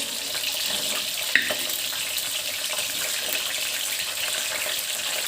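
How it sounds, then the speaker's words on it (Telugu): Prawns fry in hot oil for a prawn pickle, giving a continuous, fairly quiet crackling sizzle with a single sharp pop just past one second. No voices are heard. "ఆయిల్ హీట్ ఎక్కిన తర్వాత రొయ్యలు వేసుకోవాలండి."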